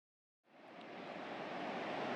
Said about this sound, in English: Want to hear the waves in the background.